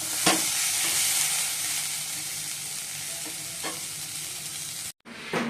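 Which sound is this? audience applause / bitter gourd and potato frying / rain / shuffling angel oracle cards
bitter gourd and potato frying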